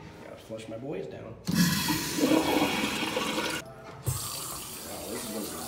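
A toilet flushes with a loud rushing surge of water that pours and then settles into a refilling gush. A voice speaks briefly just before it starts.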